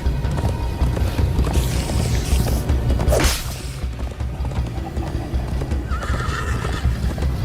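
A horse in Minecraft Story Mode neighs loudly over steady galloping hoofbeats, with a whooshing rush partway through and a busy, continuous background of motion.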